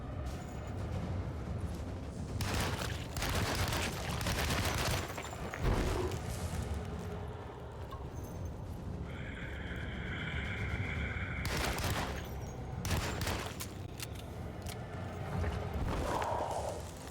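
A Tommy gun firing in the video game Alone in the Dark (2024) gives several loud, noisy bursts of rapid gunfire. Dense, rumbling game sound fills the gaps between bursts, and no one speaks.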